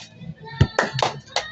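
Hand claps in a Filipino counting game, a few sharp claps in an uneven rhythm, close by, with faint voices around them.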